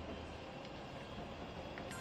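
Simulated commuter train pulling away between Meguro and Gotanda on the Yamanote Line in Densha de Go, a steady low rumble of motor and wheels throughout, with a faint signal tone near the end.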